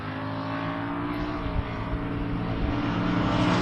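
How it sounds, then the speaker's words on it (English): An 86 Monte Carlo and a 69 Camaro launch off a drag strip start line, one bogging, producing a loud, close, steady engine roar that builds slightly over a few seconds. "And Bossett does the right thing as Hackley bogged off the start line."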